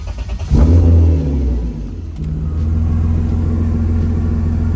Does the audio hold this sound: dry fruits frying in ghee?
no